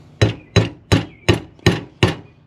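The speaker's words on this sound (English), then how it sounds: "Let's get us a little rubby mallet, and we're gonna use this." Rubber mallet striking a part held in a vise during Can-Am Commander clutch work, six evenly spaced dull thuds about a third of a second apart, close and loud with no talking.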